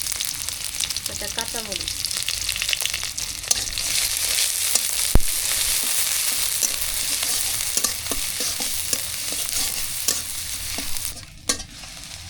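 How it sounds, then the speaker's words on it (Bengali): A whole fish frying in a pan with chopped onion, giving a steady broadband sizzle with stirring scrapes throughout; a voice speaks briefly over the cooking noise. "আগে হচ্ছে গোটা মাছটা ভুনা করি। পেঁয়াজ কুচি দিয়ে দিই"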